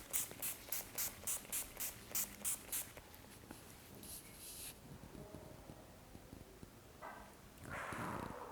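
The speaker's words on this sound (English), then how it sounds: "now I'm going to set my face with this NYX Dewy Setting Spray" NYX Dewy Setting Spray misted onto a face in a rapid run of about ten short, evenly spaced pumps, fairly close and alone in a quiet room.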